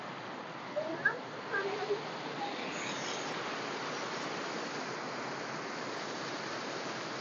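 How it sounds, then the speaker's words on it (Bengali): Waterfall at a rock garden, a steady broadband rush of falling water heard close and continuous, with a few faint brief sounds near the start. "যদি ঝর্নার জলটা যদি আর একটু বেশি হতো স্বাভাবিক অনেকটাই কার্যকর হতো"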